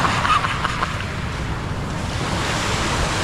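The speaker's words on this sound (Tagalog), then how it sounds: "ito ang dagat" Sea waves wash steadily onto a beach at San Jose, Occidental Mindoro, with a continuous surf roar and wind buffeting the microphone.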